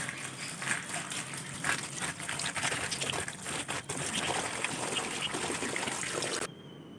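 Cold tap water running at home during tie-dye work, a faint continuous trickle and splash with some clattering handling noises, ending in a sudden cutoff near the close.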